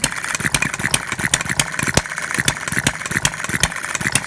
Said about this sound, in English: for a little engine, it's got a lot of compression, has a lot of power.